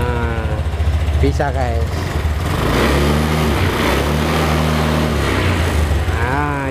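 A Honda Scoopy scooter's electric starter whirs briefly before the engine catches and settles into a steady idle, with someone talking over it nearby.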